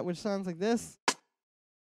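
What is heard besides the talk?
low-passed rim shot drum sample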